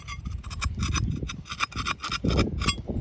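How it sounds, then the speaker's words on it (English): Repeated rasping strokes of a file scraping across a metal thermostat housing on a 2004 Dodge Ram 2500 5.7, close up, in a steady back-and-forth rhythm with no talking. "just go across it long ways like this"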